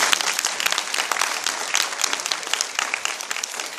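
An audience at a school independent-movement history education gathering applauds, a dense burst of clapping throughout, loud and close, with no talking.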